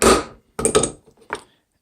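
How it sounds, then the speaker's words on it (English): A hammer striking while gluing a second layer onto a paint stir stick project, three short loud close impacts separated by brief silences, with no talking. "this is the hammer operation"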